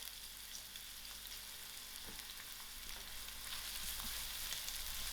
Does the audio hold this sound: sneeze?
no